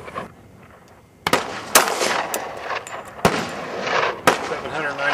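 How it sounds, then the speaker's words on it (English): Pistol fire from a Gold Dot 230 grain hollow point factory load shot over a chronograph at a rainy outdoor range: several sharp, loud cracks spaced about a second apart, each ringing out over steady rain noise. "Take a shot over the chronograph first and then we'll have at the jug."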